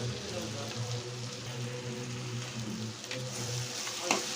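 Salted raw mango pieces stirred in a hot pan, a soft continuous sizzle with faint scraping of the spoon and a brief clatter near the end, fairly quiet throughout.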